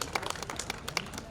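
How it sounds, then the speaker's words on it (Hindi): An audience at a Hindi poetry recital breaks into loud applause to welcome poet Saurabh Surya. Many quick overlapping claps make a dense, lively patter throughout. "एक बार जोरदार तालियों के साथ भाई सौरभ सूर्य का स्वागत करें।"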